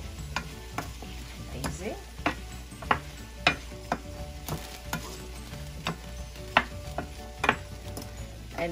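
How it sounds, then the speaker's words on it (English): Mixed California vegetables stirred in a sizzling pan, with a soft background hiss broken by regular clanks and scrapes of a spoon against the pan, close by. A voice speaks briefly. "Then we're going to mix this beautiful mixture of vegetables."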